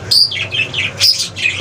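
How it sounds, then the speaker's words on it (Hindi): Pet parrots chirp and squawk in quick, shrill bursts, loud and close, with no voices over them. "ये तोते हमारे बड़े पट्टू हैं"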